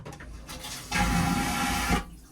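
A loud whooshing suction rush of a vacuum toilet flush in a cruise ship crew cabin, starting abruptly and lasting about a second before cutting off, heard close up with no talking.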